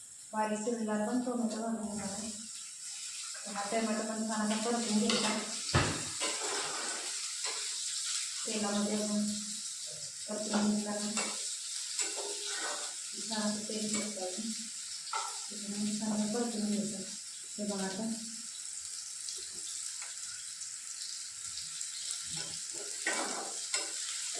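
Onion and tomato sautéing in a pan for a drumstick dish, with a continuous hissing sizzle beneath someone talking on and off throughout.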